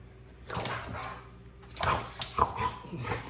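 A dog barking and yipping close by in a home, a few sharp barks spread over a few seconds with whiny, whimpering tones between them and low background hum.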